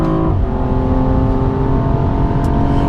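A BMW M235i xDrive on a dry track, its engine loud and close as it peaks near the 6,500 rpm redline, drops sharply with an upshift, then pulls on in a steady drone.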